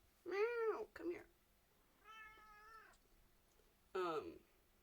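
A cat gives three distinct meows, close and clear in a quiet room, with short pauses between the calls and a slightly softer middle one.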